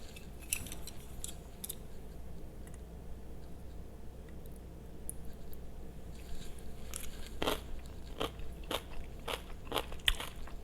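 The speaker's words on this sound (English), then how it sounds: "Did you hear that crunch?" Chewing homemade Korean kimchi gives a run of crisp, close crunches and crackles over a quiet room tone. The bites grow denser and louder toward the end.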